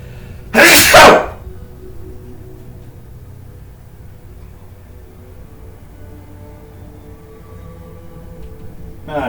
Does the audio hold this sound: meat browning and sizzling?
no